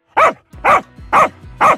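A dog barks four times in an evenly spaced, repetitive series, each bark loud, close and similar in length, with short silent gaps between them.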